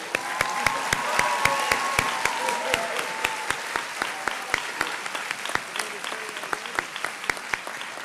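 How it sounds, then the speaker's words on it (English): Audience applause at a school graduation pinning ceremony, a crowd clapping steadily and densely with a few sharper individual claps standing out, sustained throughout and fading slightly toward the end. "Please give them another round of applause."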